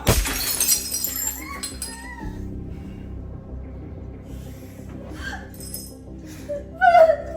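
Glass breaking indoors during a tense domestic argument, a loud shatter with scattered falling shards at the start, then quieter clinks and debris under low room noise, with another sharp crash near the end.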